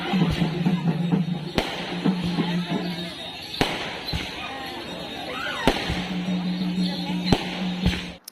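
Loud firecrackers go off with sharp bangs at irregular intervals, about four, over a busy background of voices and a steady tone, at a Mariamman temple festival.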